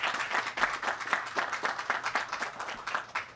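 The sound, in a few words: audience applause for host family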